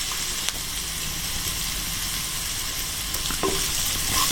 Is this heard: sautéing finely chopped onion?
yes